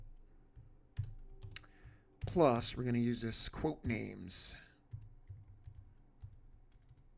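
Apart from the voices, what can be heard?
typing on a computer keyboard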